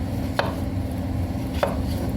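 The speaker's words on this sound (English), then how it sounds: "I'm just going to give these beets a rough slice" A knife roughly slices through raw beets on a cutting board, two sharp, separate chops about a second apart over a low steady background hum, with no talking.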